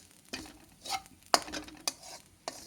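Grated coconut being stirred and dry-roasted in a spoon of ghee, heard as a few sharp scrapes and clinks of a spoon against the pan at irregular intervals over a faint sizzle.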